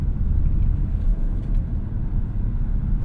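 Steady low road rumble inside a 2024 Lexus NX 350 Hybrid cruising along, a constant loud drone of tyre and engine noise with no break and no talk.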